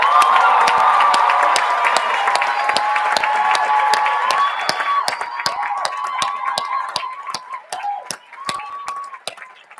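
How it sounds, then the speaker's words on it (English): Applause and cheering for Year 13 prize winners at a school speech day fill a large hall, sustained clapping from a big audience with a few whoops, gradually thinning toward the end. "Let's give them a huge round of applause."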